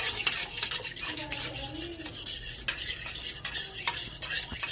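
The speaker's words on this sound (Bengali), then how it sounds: "লবণটা দিয়ে আবারও ভালো করে গুলে নেব।" Batter for a quick nasta snack stirred with salt in a bowl: a continuous close scraping and swishing of the utensil against the bowl, steady and fairly loud throughout, with no voices.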